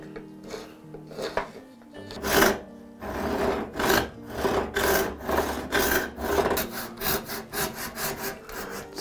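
Rhythmic strokes of a blade or rasp on a live oak knife handle, each pass a close, scratchy rasp in an even series after a brief quiet start, with no talking.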